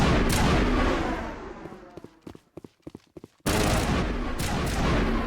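Gunfire in the sci-fi shooter Mass Effect Legendary Edition: a dense roar of sustained shooting cuts to a quick string of sharp, separate shots, then heavy continuous fire slams back in loud and close.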